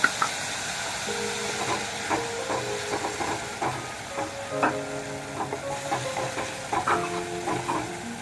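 Tomatoes sizzle in a fish masala curry pan over a raised gas flame while a spoon stirs them. A constant frying hiss runs under repeated metallic scraping and ringing strokes against the pan, with no talking.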